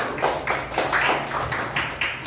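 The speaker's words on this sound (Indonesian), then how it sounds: "tepuk tangan buat dia" Schoolchildren in a classroom clap in rhythmic unison for a classmate, with steady, evenly spaced beats that land at a moderate loudness throughout.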